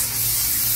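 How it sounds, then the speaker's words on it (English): Insta-Hold hair spray comes out of a can in one continuous close, bright hiss lasting under a second, with no voices. "take a little bit of this Insta-Hold spray."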